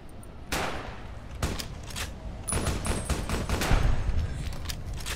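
Enemy weapons fire in Fallout New Vegas: loud bursts of gunshots and rapid automatic fire come in several volleys, overlapping and echoing, with a denser barrage in the second half.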